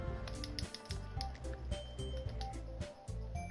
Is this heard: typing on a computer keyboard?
yes